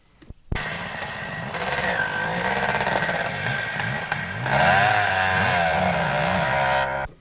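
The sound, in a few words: Kawasaki sidecar motorcycle engine at an enduro race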